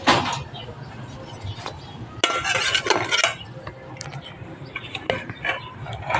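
Pakbet vegetables stirred in a pan with a metal utensil, producing repeated scraping clinks and clatters against the cookware, close and moderately loud, with soft background noise between the strokes.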